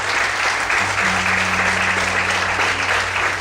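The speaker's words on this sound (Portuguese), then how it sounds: "As fortes palmas." A church congregation claps loudly and continuously, a steady wash of many hands, while a low sustained keyboard tone sounds beneath.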